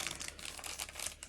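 Faint, quick crinkling of plastic packaging from a Mini Verse miniature dinosaur kit, a brief run of soft crackles and rustles with no talking.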